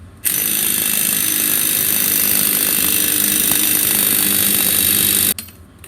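A Ryobi cordless impact wrench hammers on the wheel nuts of a rusty Mustang in one loud, continuous rattling burst lasting about five seconds, then cuts off sharply, with no talking.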